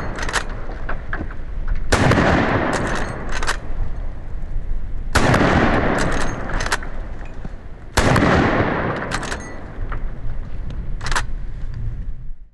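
Three heavy 45-70 lever-action rifle shots boom into cinder blocks at roughly three-second intervals, each a loud sharp crack with a rolling echo, followed by scattered smaller clicks and knocks, outdoors with no talking.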